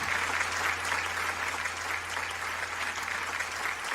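Dense, steady audience applause for a singer, loud and close, continuing unbroken for a few seconds with a low hum beneath it.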